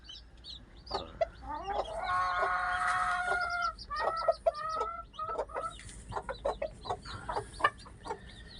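A chicken clucks close by in short, choppy bursts, with a longer run of excited calls early on, over quiet background hiss.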